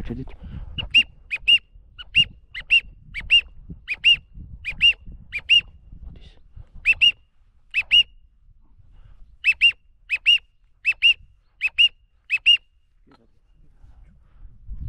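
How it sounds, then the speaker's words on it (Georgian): A duck call whistle blown during a duck hunt gives sharp, short, high-pitched blasts in quick groups of two and three, spread across quiet open-air background, with a brief voice in between. "სტვენია არის"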